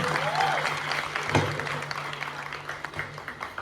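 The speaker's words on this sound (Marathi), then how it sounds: "त्यांच्यासाठी एकदा जोरदार टाळ्या वाजवा" An audience at the Malvani Award 2024 ceremony in Sindhudurg claps for the backstage videographers. The applause is moderate and fairly steady, with some crowd murmur and a faint voice underneath.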